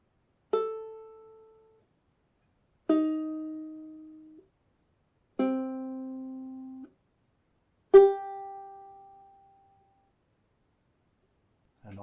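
Four open ukulele strings are plucked one after another from first to fourth, each a single clean note that rings out and fades before the next, evenly spaced and close up.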